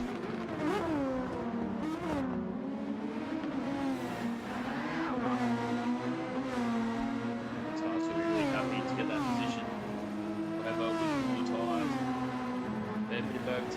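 Formula race car engines in Gran Turismo 7 at the Australian Grand Prix whine through rising and falling revs as cars accelerate, shift and pass, a continuous layered high-pitched drone.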